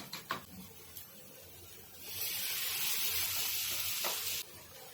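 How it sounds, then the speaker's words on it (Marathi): Chopped tomato sautéing with ginger and garlic in a pan, with a soft hiss that swells after a couple of seconds into a steady sizzle and then cuts off near the end, with a few light stirring clicks early on. "ते टोमॅटो पण छान परतून घ्यायचं"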